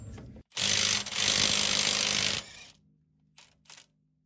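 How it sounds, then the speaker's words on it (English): Impact wrench driving a 30 mm socket to remove a nut on a Marlin Crawler dual transfer case install, a loud rattling burst of about two seconds, briefly interrupted, then a couple of short clicks. "we're gonna use a 30 millimeter socket and just hit this with the impact"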